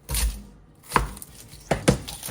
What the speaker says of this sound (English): next we're gonna go ahead and we're going to cut up our shallots.